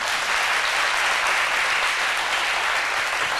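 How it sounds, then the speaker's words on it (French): An audience applauding during a church gathering, a dense wall of clapping that holds loud and even from start to finish, with no speech over it. "Et nous disons Amen avec des applaudissements."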